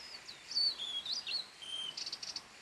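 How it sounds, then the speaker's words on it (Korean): A blue-and-white flycatcher sings clear, high whistled phrases in a forest setting, followed by a quick series of short repeated notes, alone against a quiet background. "큰 유리새입니다."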